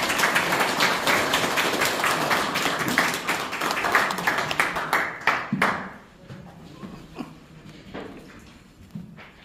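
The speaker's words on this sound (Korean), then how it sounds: "박수로 보내주십시오." An audience at a memorial ceremony claps in dense, lively applause that holds strong for several seconds, then thins to a few scattered, fading claps near the end.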